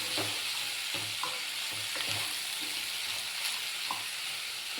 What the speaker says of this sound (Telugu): హైలోనే పెట్టి ఇలా వేయించుకుంటే కొంచెం బాగా మంచి వాసన కూడా వస్తుంది